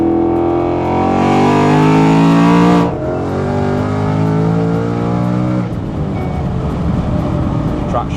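A nearly 1000 hp manual Ford Mustang Dark Horse accelerates hard, its engine note rising loudly in pitch, cutting off briefly at a gear change, then climbing again with a rougher roar close to the microphone.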